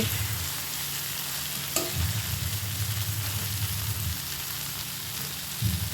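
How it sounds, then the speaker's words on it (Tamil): Brinjal (eggplant) poriyal sautés in a pan with a constant frying sizzle. Scraping stirs from a spoon come through at intervals, with no voices. "ஒரு 5 நிமிஷம் கடைசியாக நம்ம நல்லா வதக்கணும்."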